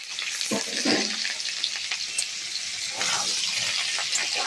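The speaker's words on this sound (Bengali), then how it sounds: "এঁচোড়গুলো আমি কিন্তু একটু তেলের মধ্যে সুন্দরভাবে নাড়াচাড়া করে ভেজে নেব" Young jackfruit pieces fry in oil for a vegetarian dish, a steady sizzle with soft stirring scrapes and a few watery splashes, moderately loud and close throughout.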